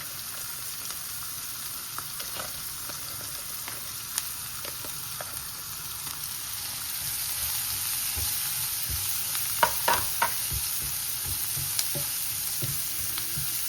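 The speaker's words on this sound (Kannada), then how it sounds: "ಸೊ ಇವಾಗ ಈರುಳ್ಳಿನ ಸೇರಿಸ್ತಾ ಇದ್ದೀನಿ. ಈರುಳ್ಳಿನ ಚಿಕ್ಕದಾಗಿ ಹೆಚ್ಚಿಟ್ಕೊಂಡಿದ್ದೀನಿ." Finely chopped onions frying and being stirred in a pan, a steady close hiss of sizzling oil with occasional scraping clicks from the stirring, no talking.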